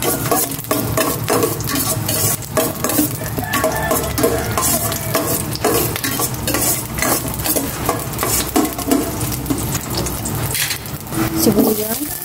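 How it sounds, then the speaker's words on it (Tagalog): Garlic sautéing in a pan for pinakbet with pork sizzles loudly and steadily, with frequent scraping and clinking from stirring, and a voice comes through faintly in the background. "Gisa ko na itong bawang"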